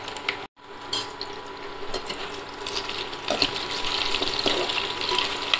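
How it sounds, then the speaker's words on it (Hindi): Potatoes dropped into hot cooking oil, a close, steady sizzle and crackle that builds in intensity after a brief gap, with light clatter of a utensil in the pan. "तेल गर्म हो चुका है और मैं इसमें पहले आलू डालूँगी"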